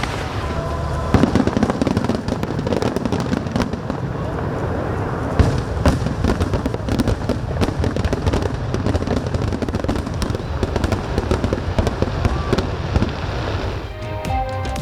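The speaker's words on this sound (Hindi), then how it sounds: "शानदार आतिशबाजी से आसमान रंगो नूर में नहा गया" Fireworks at the opening of Egypt's Grand Museum, a continuous barrage of crackling bursts and booms over crowd noise, dense and fairly loud throughout.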